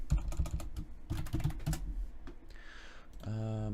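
Fingers tap quickly on a computer keyboard, bursts of close, sharp clicks followed by a short pause and then a brief tonal sound, with no talking.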